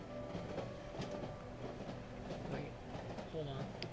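A train in the horror video game Cry of Fear rolls along with a faint, steady rumble and soft rhythmic clatter, some metallic tonal whines rising above, under quiet talk.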